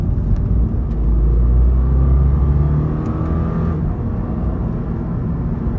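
A Toyota GR86 engine with no exhaust drones and revs steadily from inside the cabin, a loud low rumble without exhaust growl, rising slightly then settling.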